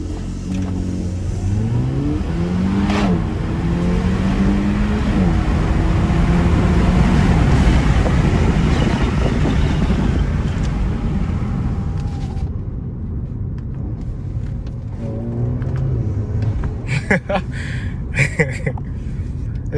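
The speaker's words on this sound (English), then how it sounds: "one cool feature about the A4 is launch control" A 2018 Audi A4 B9 does a launch-control start from inside the cabin: the engine revs up, then pulls hard through rising gear sweeps with shifts, loud and steady, before easing off into quieter road noise with some light clatter.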